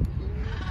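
A sheep at a petting zoo gives one short, wavering bleat at close range over a bed of low background noise.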